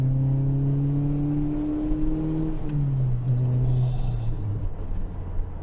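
A Toyota Celica accelerates away on a public road, its engine note rising and revving under load, then dipping and climbing again as a gear change comes, heard from inside the car over a low road rumble.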